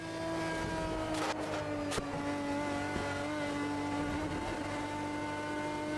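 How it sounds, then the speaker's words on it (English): A GT1 race car engine in the racing game Automobilista 2 drones at a steady high pitch, holding a sustained whine with a couple of brief bursts, no talking. "you can hear the car sounds quite good too"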